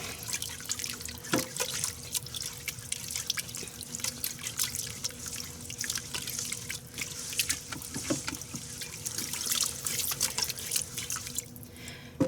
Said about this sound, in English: let me stir this up first. Get all this stirred up.